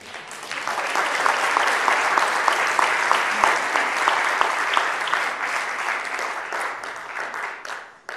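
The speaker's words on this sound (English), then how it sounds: "Let's give Jesus a hand clap for him." A church congregation claps together for about eight seconds, a dense, steady wash of many hands at close range that holds even and then tapers slightly toward the end.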